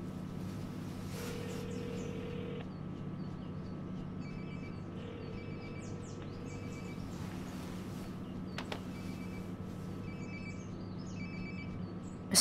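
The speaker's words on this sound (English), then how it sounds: "Sounds like my phone is definitely nearby." A phone rings nearby in the video game Life is Strange: Before the Storm, a short electronic trill repeating at a steady pace over a low, constant game ambience.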